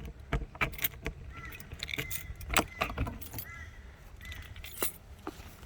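Metal keys jangle and clink in irregular bursts close by inside a Franklin Razor caravan, over a faint low background hum.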